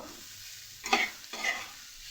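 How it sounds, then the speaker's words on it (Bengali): Spice masala with turmeric powder and a little salt is stirred and sautéed in a pan, quietly sizzling under two close scraping strokes of a spatula. "এবার একসাথে মশলাটাকে ভালো করে কষিয়ে নেব"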